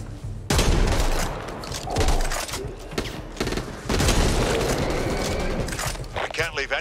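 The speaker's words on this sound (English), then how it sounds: "Flashbang here." Gunfire and a flashbang in the video game Back 4 Blood, with loud bursts of shooting and blasts that come in waves over a chaotic combat mix, and voices talking in between.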